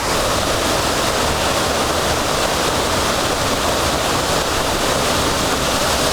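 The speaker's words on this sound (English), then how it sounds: "only the layers of water coming on the rocks" Water from the Josefsthaler Wasserfälle crashes onto rocks, producing a loud, continuous, broadband roar heard up close with no break or change across the whole span.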